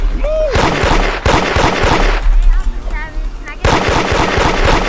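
Rapid video-game gunfire from an enemy shooting at the player on a night server, loud bursts of shots cracking close by in several clusters, with a brief lull between volleys.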